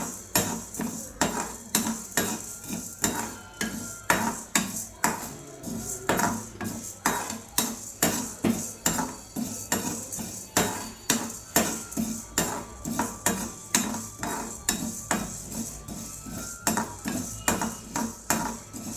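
Ingredients dry-roasting in a metal pan while a spoon stirs them, with a steady run of rhythmic clinks and scrapes repeating about twice a second, close and fairly loud, with no talk.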